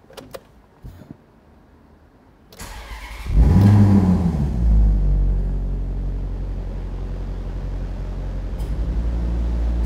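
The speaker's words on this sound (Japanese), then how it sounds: "ではエンジン始動していきます。" A 2012 Maserati GranCabrio fires up after a few quiet clicks, the starter catching into a loud deep rev that swells and settles into a steady rumbling idle, heard close with no talk.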